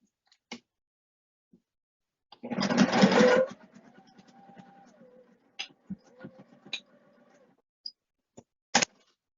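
A home sewing machine stitches a 1/4 inch seam around an interfaced pocket piece for a bag, giving one loud, dense burst of about a second, then a fainter run with scattered clicks and ticks.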